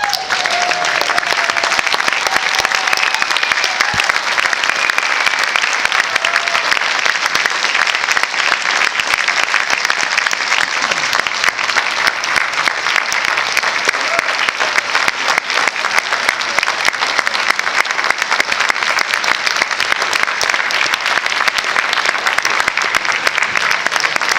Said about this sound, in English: just let the clap go for 15 minutes